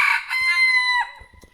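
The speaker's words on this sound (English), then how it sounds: "We got too many roosters around here." A rooster lets out a single loud, close crow lasting about a second, ending abruptly and leaving faint farmyard clucks and scuffles behind it.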